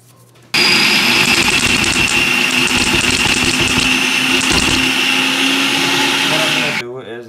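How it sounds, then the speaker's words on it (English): A food processor roughly chops onions, cilantro and green chilies in one loud, steady whirring burst of about six seconds, starting abruptly and cutting off near the end. "I'm gonna give it a rough chop in the food processor."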